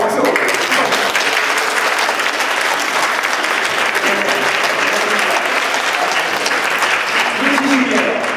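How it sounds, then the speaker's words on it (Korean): Loud, sustained applause from a large church congregation giving a standing ovation, continuous and dense throughout, with voices faintly mixed in beneath the clapping. "아버님들 위해서 기립박수 한번 해주십시오."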